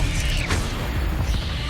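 Expelliarmus disarming spell cast in the video game Hogwarts Legacy: a quick whooshing sweep with a bright crackling burst, followed by a busy rumbling game ambience.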